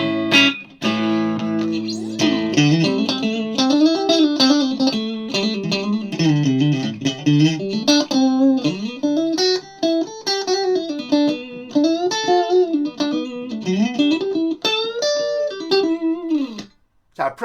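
Clean electric guitar through a Marshall G30R CD amp on its clean channel with reverb plays a flowing melodic line with a gentle reverb tail, steady and alone with no voices.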